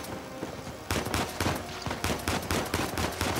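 Rapid gunfire in the PlayStation 4 game Uncharted 4, including a one-shot headshot: a burst of loud, sharp cracks at an uneven rhythm over a dense, noisy firefight, with no talk.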